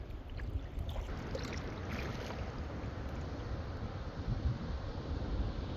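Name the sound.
waterfall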